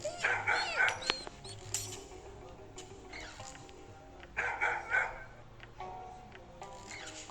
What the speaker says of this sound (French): Le chien, il va attirer les personnes.